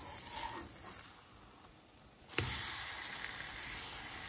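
French toast sizzles in a pan and is flipped partway through, and the frying hiss swells sharply when the slices hit the hot surface again. A steady, close crackle continues afterward with no voices.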